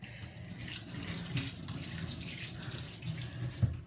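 Tap water runs steadily into a sink to rinse an arm, a close, continuous splashing stream that lasts throughout with no talk over it.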